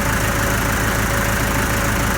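A diesel engine idles steadily through the clip as it warms up ahead of a spring oil change, giving a loud, continuous low rumble with an even mechanical pulse and no talk over it.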